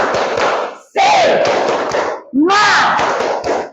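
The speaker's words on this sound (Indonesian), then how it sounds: "Tepuk semangat." A school class performs the 'tepuk semangat' clapping chant, loud rhythmic claps and thumps under energetic shouted group chanting in two bursts, close and crowded.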